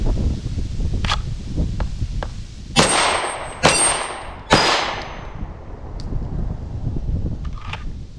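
A Glock 17 9mm pistol fired slowly at a range, three sharp loud reports spaced about a second apart, each with a brief ringing tail, plus a few fainter clicks and clanks around them.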